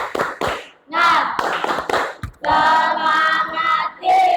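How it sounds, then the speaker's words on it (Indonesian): A classroom group performs the rhythmic tepuk semangat clapping game, sharp claps and taps coming in bursts mixed with children's chanting voices, loud and close. "Oke, tepuk semangat."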